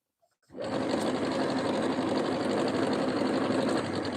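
A sewing machine stitching pillows starts after about half a second of near silence, then runs in a steady, loud, continuous drone close by until the end.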